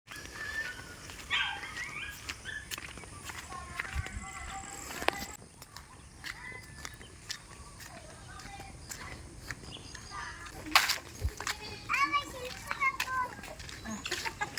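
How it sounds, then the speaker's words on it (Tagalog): Several dogs kept in a rural countryside yard with goats bark in short, scattered bursts, fairly faint, mixed with children's voices and nearby chatter. "Dami mong alagang aso, ah."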